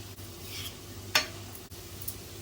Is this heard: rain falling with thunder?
no